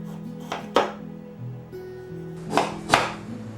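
A kitchen knife chops white ginger into big chunks on a cutting board, a few distinct thuds spaced apart, close and fairly loud, with no talking.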